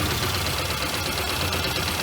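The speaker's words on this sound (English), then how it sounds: "Got a bad misfire." A $600 auction Volvo 240 runs with a bad misfire. The engine gives a continuous loud, rough rumble up close, with no voices.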